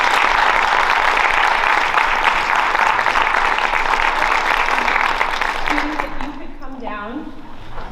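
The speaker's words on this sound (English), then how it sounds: "Let's do one final round of applause for all of our students." A school audience of families gives students a final round of applause at a student-of-the-quarter event, dense sustained clapping that fades out as a voice begins speaking at the end.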